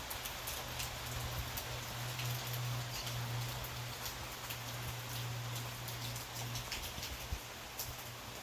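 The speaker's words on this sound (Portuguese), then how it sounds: "Chuva abençoada por Deus." Steady rain falls across the whole stretch, a dense hiss of drops on surfaces with a low constant hum beneath, moderately loud and without voices.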